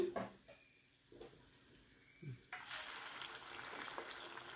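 Poha vadas made from flattened rice fry in hot oil. Faint crackles and clinks come first, then a loud, steady sizzle swells up as a new batch drops into the pan.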